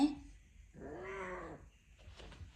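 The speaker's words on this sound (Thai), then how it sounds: "แมวร้องเสียงดังยังเลย" A young female house cat cries loudly, one long strained yowl in the middle of the clip between quieter moments, heard close up with a faint voice-like sound near the end.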